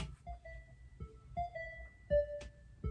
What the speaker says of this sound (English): It's like a bell sound.